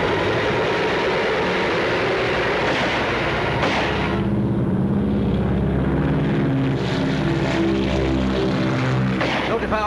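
A propeller airplane engine roars close and loud as the plane takes off, a continuous droning rumble with a rising throb, a 1940s aircraft in a wartime airfield scene.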